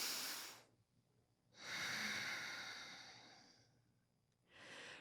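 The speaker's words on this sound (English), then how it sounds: "I invite you all to take a deep breath with me right now." A deep inhale at a demo day pitch event, sounding like a single close breath or a group breathing together, followed by a long, slow exhale and the start of another breath.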